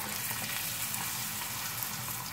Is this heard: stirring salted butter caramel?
yes